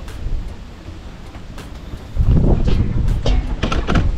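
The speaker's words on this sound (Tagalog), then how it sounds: "Ang lakas ng hangin." Strong wind buffets the microphone in heavy low rumbling gusts, swelling louder midway and staying forceful, with no voices.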